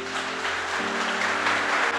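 A church congregation applauds the Lord during a sermon, with steady dense clapping over sustained low organ or keyboard chords that shift pitch partway through.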